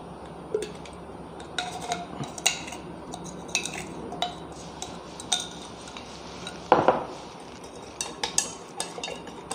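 Irregular clinks and scraping taps of a mixer stirring a phosphoric acid tile cleaner solution in a container repeat over a steady background hum, with one louder knock midway.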